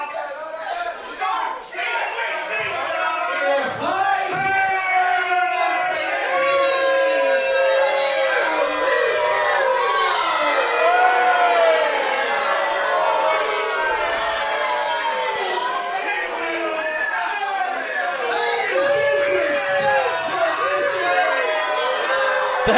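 Wrestling crowd at a Future Pro Wrestling show drowning out a wrestler on the mic, a loud sustained roar of chanting, whistling and jeering voices rising and falling throughout.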